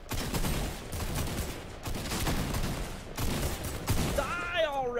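Rapid bursts of shotgun fire in a Fortnite-style shooter game, several loud blasts in quick succession with short gaps between, ending in a ringing, whistling effect.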